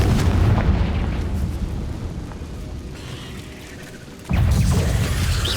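A Confringo spell explosion in Hogwarts Legacy on Switch makes a loud, sustained booming roar that dips briefly, then bursts again with a fresh blast near the end.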